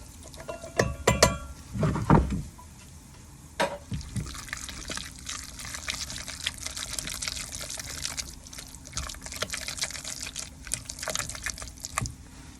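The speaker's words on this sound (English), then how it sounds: "we're also going to just dump our corn in here" Drained corn is dumped into a bowl with a wet, rattling pour of kernels, followed by a few soft knocks and scraping as it settles, with light handling noises afterward.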